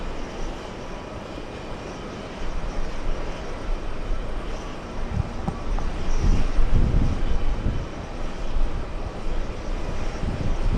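A Finnair airplane at JFK Airport produces a steady engine rumble that grows louder and heavier toward the end, moderately close, with no talking heard.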